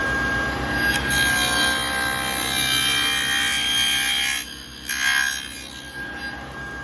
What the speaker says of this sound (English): I got one part of the I-beam channeled out with the dado.